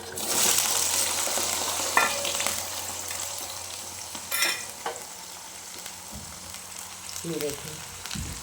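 Okra and onion sizzle in hot oil in a tempering pan, a steady close frying hiss with occasional stirring clinks and scrapes of the utensil against the pan.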